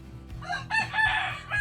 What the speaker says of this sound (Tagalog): Ayun, manok.